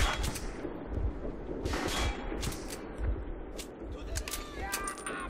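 Gunfire in Metro 2033, a run of sharp shots and thuds popping irregularly across the stretch, close and fairly loud among rumbling background noise.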